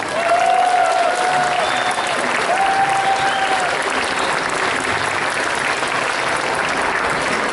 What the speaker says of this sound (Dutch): Nog eenmaal applaus voor ISTICA.